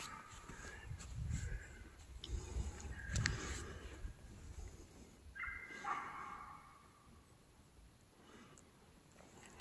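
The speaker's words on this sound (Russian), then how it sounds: "вон собака визжит" A dog yelps and whines in a few high, strained bursts at a moderate distance during a hunt in a pine forest, over outdoor rustling and low wind noise.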